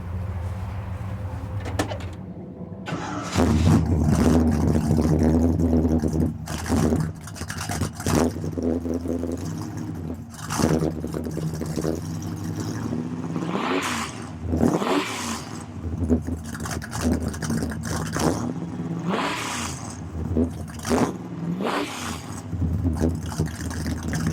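A 427 FE V8 engine in a 1960 Ford wagon idles with a deep, lumpy rumble, blipped several times into louder revs, close by, with brief clunks and background noise.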